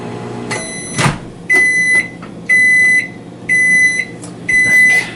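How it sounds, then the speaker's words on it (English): A microwave oven heating chimichangas hums steadily while its loud beeps repeat about once a second in an even series, with no talking. "Okay, I'm just letting those cook in the microwave right now."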